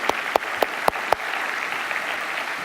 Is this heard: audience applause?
yes